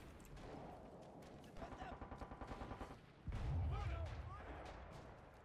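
An M2 Stinger machine gun fires in the video game Enlisted, with a rapid rattling burst of shots followed by a heavy booming blast and rumbling, all mixed with in-game battle noise.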